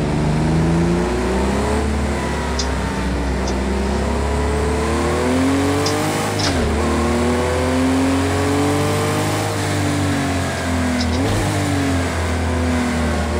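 Race car engine in the Project Cars 2 video game revving hard through repeated heel-and-toe downshifts, loud and continuous, with rising and falling engine pitch and sharp throttle blips between gears.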